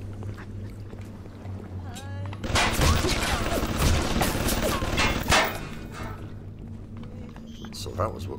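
Enemy gunfire in the video game Bioshock erupts in a dense cluster of loud, sharp bursts after a quieter stretch, then fades to scattered shots and ambient game noise.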